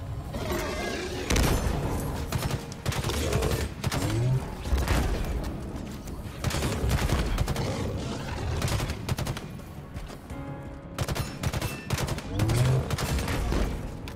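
Gunfire in the Halo Infinite campaign mission Pelican Down, with bursts of rapid automatic shots and clanking impacts repeating across the stretch, loud and close under a constant combat rumble.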